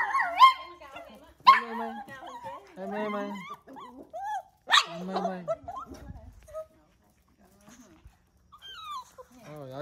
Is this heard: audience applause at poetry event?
no